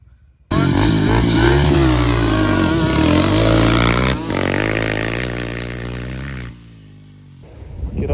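A 2-stroke ATV engine, such as an LT250R, Banshee or DS650, revs hard toward redline and starts to break up. It stays loud and close for about six seconds, then drops back to a rough idle that picks up again at the end.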